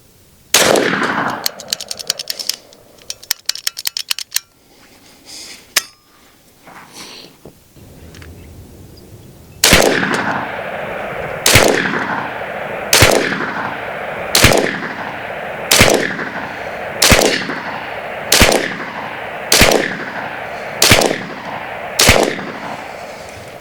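An S45 big bore air pistol fires a rapid rattling burst early on. Then come about a dozen sharp, loud, evenly spaced single shots, each with a short echoing tail.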